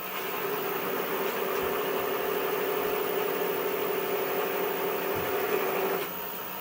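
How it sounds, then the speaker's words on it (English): Wood lathe spinning steadily with a tool cutting into the wood, a continuous even drone and hum that holds for about six seconds before easing off, no talking. "reduce the lathe speed, off we go"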